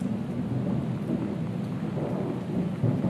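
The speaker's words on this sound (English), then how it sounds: "And the constant thunderstorm" A video game thunderstorm: a steady wash of heavy rain with low, continuous thunder rumbling underneath, dense and unbroken throughout, with no voices.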